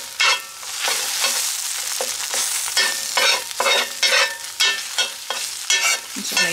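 Food seasoned with salt and pepper sizzling in a hot skillet on a stove, a loud continuous frying hiss broken by repeated bursts of stirring and spatula scrapes in an uneven rhythm.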